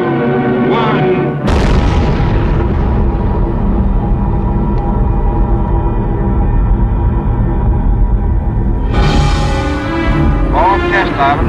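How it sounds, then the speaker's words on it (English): Ivy Mike, a thermonuclear bomb test on Elugelab atoll in the Marshall Islands, bursts in as a sudden loud blast and settles into a long sustained roar that swells again near the end. "superbomb, a thermonuclear device with a human name, Mike"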